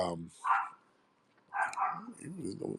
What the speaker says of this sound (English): the dog is barking at the damn bowl